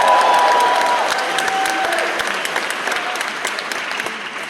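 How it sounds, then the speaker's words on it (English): A theatre crowd at the Castro Theatre in San Francisco applauds a movie-night host, dense clapping that starts loud and slowly tapers off, with a few scattered cheers and no clear talking. "Come on, give him a round of applause"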